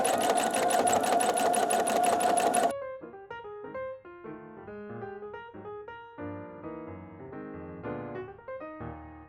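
A sewing machine runs fast and steadily while free-motion quilting, its rapid, even stitching chatter loud and close for a few seconds before it stops and gentle tonal music takes over.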